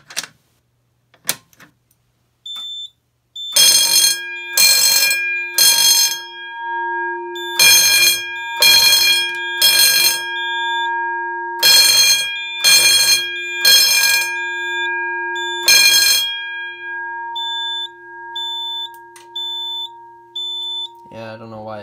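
An Edwards QuickStart fire alarm system under test sounds in repeated bursts of harsh electronic tones, groups of short blasts separated by pauses, followed by a steady tone and faint chirps.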